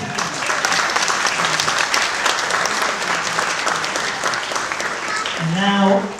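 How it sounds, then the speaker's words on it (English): A wedding reception crowd gives sustained applause, dense and steady, then a voice speaks over it near the end. "how about a round of applause for Kataja?"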